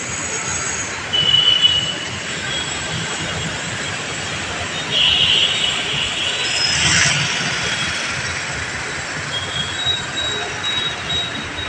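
A metro train at Jubilee Hills metro station in Hyderabad, heard as a long steady rumble with high wheel squeals and a swell of noise midway, under a busy station ambience.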